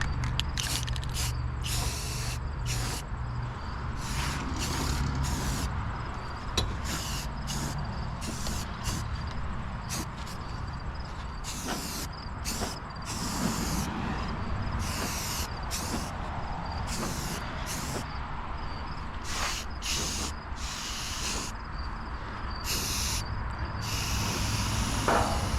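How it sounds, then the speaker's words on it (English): Semi-gloss black primer is sprayed from a can onto a 1940 Ford pickup's nose, a close, steady hiss running in repeated bursts with short pauses between passes. "So all I got to do now is put some primer on it, some semi-gloss black."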